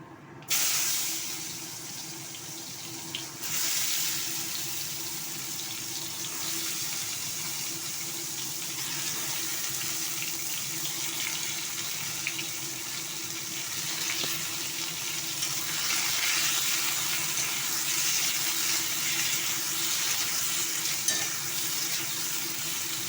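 Nigella seeds sizzle in hot oil left from frying fish, a loud steady hiss and crackle that runs throughout with an occasional stir.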